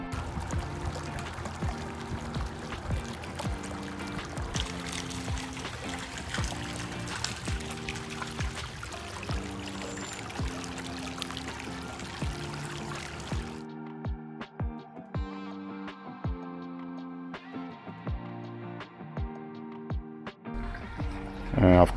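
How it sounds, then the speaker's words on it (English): Water cascades and trickles steadily from a water wall with bubblers in a pool, while music plays over it and briefly drops out in the second half. "you can hear the soothing sound of the water wall with the bubblers"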